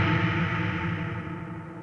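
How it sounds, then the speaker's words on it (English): A long reverb tail fed into a bitcrusher with reduced sample rate, after a low-pass auto filter and OTT compression, smears into a gritty, crispy wash that slowly fades out on its own. "takes the long decaying reverb tail and then it turns it into this kind of decaying crispiness that sounds really nice"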